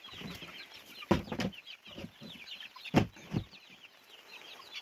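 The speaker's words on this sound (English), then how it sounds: "I think we got a lot of chickens now." Chickens bought at an auction and newly let out of a crate cluck nearby, short soft bursts and a few louder clucks scattered unevenly over a quiet background, with no talking.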